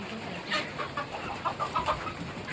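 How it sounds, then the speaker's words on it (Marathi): Chickens and a rooster cluck in short, uneven bursts at a Konkan homestead, close and moderately loud over a steady outdoor background hiss. "हे बघा, एक कोंबडा उभा आहे वर."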